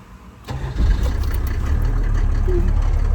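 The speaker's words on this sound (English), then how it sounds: "If I'm correct, the car should start right now, so let's try that." A 40-year-old Land Rover's engine cranks and catches after a short quiet moment, then settles into a loud, steady, rumbling idle close by.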